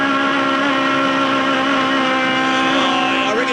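An Aussie Racing Cars race car at Adelaide screams past at high revs on the throttle, a loud, steady engine note held close throughout, with a slight pitch shift near the end.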